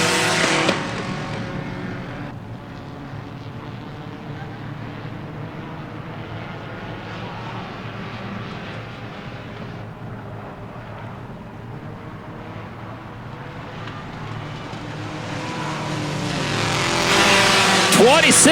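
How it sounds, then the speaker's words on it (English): Late-model race cars on a short oval roar steadily past as they head into a turn, and a brief tire squeal rises near the end beneath an announcer's commentary. "Tires squealing as we go into turn number 4."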